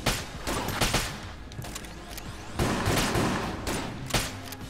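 Gunfire from the video game Enter the Gungeon, a series of sharp shots in irregular bursts with some mechanical clicks between them, loud and close.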